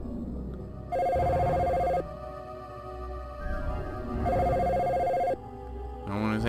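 An old-style telephone in the Dino Crisis video game rings in two long electronic bursts, about a second each, separated by a pause, with low game ambience and music underneath.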